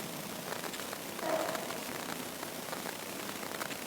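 Rain falling steadily, a faint, even hiss that swells slightly for a moment and then settles back; no one talks.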